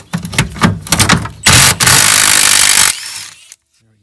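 A power tool spins off the last fuel tank nut on a 1984 Pontiac Fiero, with loud rattling impact bursts followed by a steady high whirring run that cuts out abruptly, close up.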